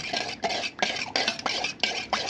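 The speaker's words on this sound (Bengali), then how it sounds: "এই সুন্দর করে নাড়ছি" Egg being stirred into a caramel custard mixture in a bowl, a rhythmic series of about six scraping, clinking strokes of a utensil, close and fairly quiet.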